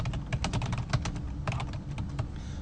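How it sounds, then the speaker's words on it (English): Someone types on a computer keyboard nearby in quick, irregular bursts of light clicks and key taps, with no talking. "So I'm going to start typing some stuff."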